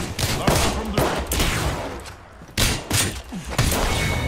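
Gunfire in an Apex Legends match: several loud bursts of shots in quick clusters with brief lulls between them, close and punchy.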